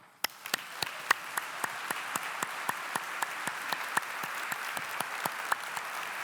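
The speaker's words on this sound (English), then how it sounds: "Please give him a warm applause." An indoor audience at a live event gives a warm round of applause, with distinct claps in an even, steady rhythm that carry on for about six seconds with no talking over them.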